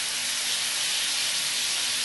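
Shrimp sautéing in a pan with garlic butter gives off a steady, even sizzle and hiss throughout, moderately loud with no pauses and no voices.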